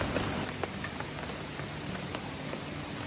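Heavy rain pours outside a tent at a family campsite in Bedengan, Malang, a steady dense hiss close by with scattered droplet taps on the surface, continuous and without pauses.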